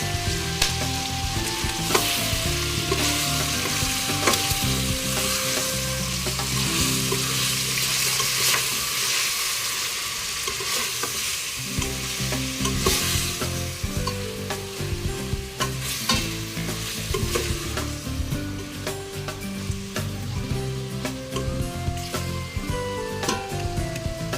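Pork cubes with salt sizzle loudly in a pan for a cooking dish of mung beans with pork and bitter melon. The frying crackle is continuous and close, and the pieces are stirred and scraped now and then.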